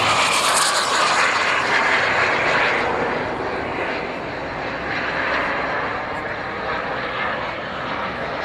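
An F-100 jet fighter carrying underwing fuel tanks roars past at an air show in Kentucky, a loud broad rushing blast that peaks early and then fades into a sustained rumble.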